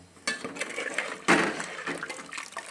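Water poured into a thick crab curry in a cooking pot: a close, splashy gush that swells after a short pause and trails off into softer trickling.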